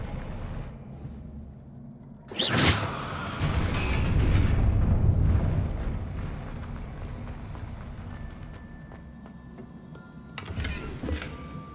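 A Confringo spell blast in Hogwarts Legacy: a sharp whoosh, then a broad rumbling explosion that swells and fades over several seconds, followed by ticking debris and a second shorter burst near the end.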